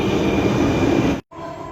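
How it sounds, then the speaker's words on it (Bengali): A metro train on the Dhaka Metro Rail pulls into the station with a loud, steady rolling rumble and hum, which then abruptly cuts off. "ট্রেন ঢুকে পড়ছে, এখন আমি ট্রেনে উঠবো।"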